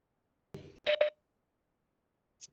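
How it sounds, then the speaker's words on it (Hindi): Electronic telephone tones sound as phones are unmuted on a group call: a short burst of dial tones, a two-part beep, then after a silence one faint brief tone near the end. "और अभी फोन अनम्यूट किया जा रहा है।"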